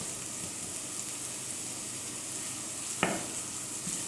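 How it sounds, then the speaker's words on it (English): Onion toasting in butter and olive oil in a pan for risotto with asparagus and Asiago, a steady soft sizzle throughout with one sharp stir or clink partway through, no talk. "We are going to toast the onion."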